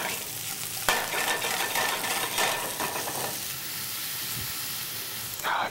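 Peppers are stirred in a hot pan, a spoon scraping and tossing them through a steady, close sizzle of frying, with a sharp clatter near the start and another at the end.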